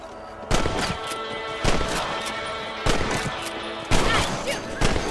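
Rifle shots fired at rabbits in Red Dead Redemption, five loud separate reports about a second apart, each ringing out with a short echoing tail.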